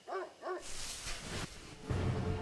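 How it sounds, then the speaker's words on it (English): A dog in the video game Spirit Hunter: Death Mark gives two quick close barks, followed by a rushing whoosh of noise that fills the rest of the moment. "I face the general area the barking is coming from and show it the collar."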